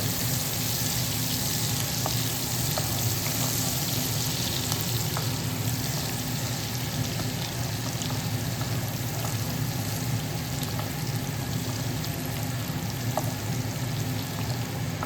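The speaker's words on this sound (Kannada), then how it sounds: "ಎಣ್ಣೆ ಅಂತ ಕಾಯ್ದು ಪಜಿ ಮುಂಚಿಲ್ಲ ಬೆಳ್ಳುಳ್ಳಿನ ಪಾರ್ದು ಒಂತೆ ಫ್ರೈ ಮಾಡ್ತೀನಿ" Garlic frying in hot oil in a pan for an egg masala, a steady, even crackling sizzle up close that holds at one level throughout, with faint occasional stirring ticks and no talking.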